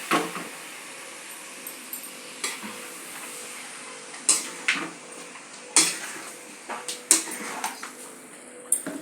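A spoon stirs chicken fry tomato rasam in a pan, scraping and clinking against the metal in irregular bursts over a soft background sizzle.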